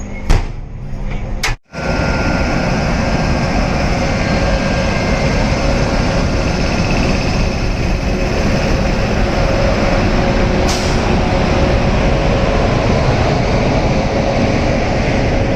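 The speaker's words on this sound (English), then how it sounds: "VAP 7 Lalaguda locomotive was coupling to GT Express." Loud, continuous rumble of a WAP7 electric locomotive at work beside the Grand Trunk Express with new LHB coaches, a sharp clank near the start, then a steady drone throughout.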